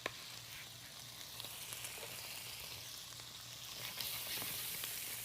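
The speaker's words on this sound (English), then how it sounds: "Got a couple of tablespoons of butter that I'm going to put in the rice pan. I'm going to add my onions." Onions sizzle in a couple of tablespoons of melted butter in a rice pan, a steady close frying hiss with a few small pops and a faint low hum beneath, no voices.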